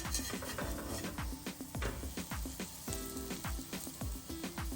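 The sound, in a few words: zucchini mushroom fritter frying in pan, being flipped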